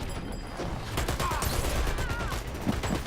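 Gunfire in an esports video game match, a steady spray of rapid shots heard alongside mechanical game noise, at moderate loudness.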